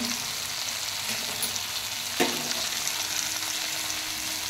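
Spice paste of turmeric and ground black pepper sautés in a pan with a little water, giving a steady broadband sizzle with one brief clack of a utensil midway, close and continuous, with no voices.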